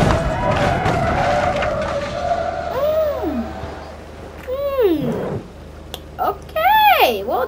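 In the BeamNG.drive driving game, a racing car with no traction skids as an engine drone gives way to several sharp, rising and falling tire squeals in bursts.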